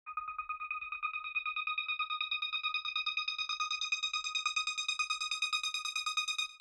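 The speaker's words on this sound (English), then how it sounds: "We've got this M1 string here." An M1 synthesizer string preset plays a sustained chord that pulses in a quick, even rhythm and grows steadily brighter, heard alone.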